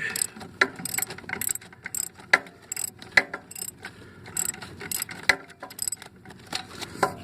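Ratchet and socket wrench loosening turbo bolts during a turbo removal, giving repeated quick clicking ratchet strokes with sharp metallic knocks, close and irregular, with no talk.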